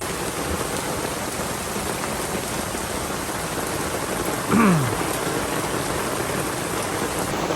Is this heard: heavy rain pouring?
yes